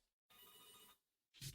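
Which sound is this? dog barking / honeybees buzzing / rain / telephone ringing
telephone ringing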